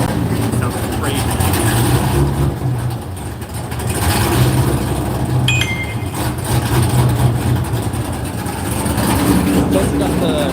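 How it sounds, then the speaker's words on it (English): A Corvette Z06 of roughly 720 horsepower runs on a dyno, its engine holding a loud, steady drone for the whole stretch, while someone talks over it. "We're seeing around 720 horsepower, 750 foot-pounds of torque roughly."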